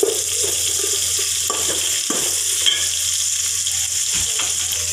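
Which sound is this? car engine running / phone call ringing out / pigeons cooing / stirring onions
stirring onions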